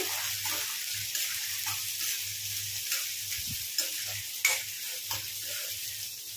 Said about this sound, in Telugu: కట్ చేసుకున్న ఉల్లిపాయ ముక్కలు వేసుకోండి. ఉల్లిపాయలు అయితే మంచిగా ఫ్రై చేసుకోండి.